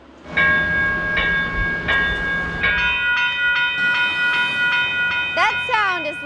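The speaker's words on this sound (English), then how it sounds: "That sound is light rail transit coming to St. Paul" Light rail train arriving in St. Paul on the Central Corridor: repeated bell or horn tones over a rolling rumble and wheel noise, closing with a squealing brake sweep.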